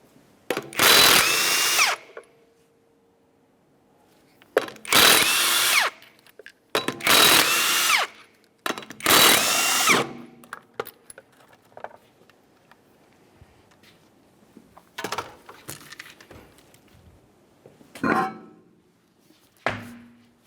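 An impact wrench spins off 19mm lug nuts from a 1994–1997 Honda Accord front wheel, several loud whirring bursts of a second or two each separated by pauses, followed by shorter clicks and rattles of tools and parts.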